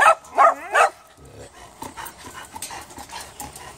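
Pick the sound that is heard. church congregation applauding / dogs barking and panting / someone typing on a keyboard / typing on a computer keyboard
dogs barking and panting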